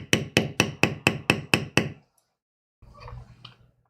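Eight sharp, evenly paced mallet strikes on a leather bevel tool, close and loud, during carved leather tooling, then a short pause before some faint handling noise.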